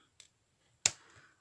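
Two quick snips cut the excess from an XL popsicle-stick bookmark: a faint tick, then a sharp close scissor snap with a brief scraping tail, in an otherwise quiet room.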